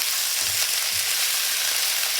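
Papaya pieces fry in a pan with a constant, even sizzle and crackle of hot oil, close and steady throughout, with a faint stir or scrape of a utensil now and then and no talking.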